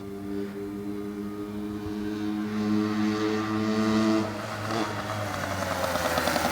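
A small Yamaha PW80 two-stroke dirt bike engine drones at steady pitch, then rises and revs higher as it passes during a speed run, heard from a moderate distance outdoors.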